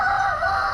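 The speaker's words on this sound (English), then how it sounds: "this is the chicken coop" A brief, close burst of hen vocalising, a drawn-out clucking note from old broody hens in a chicken coop.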